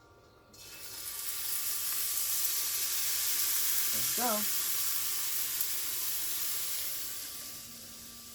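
Spicy lamb back ribs laid on a hot grill under a running fan set up a loud, steady sizzle that holds for several seconds, with a brief spoken phrase near the middle.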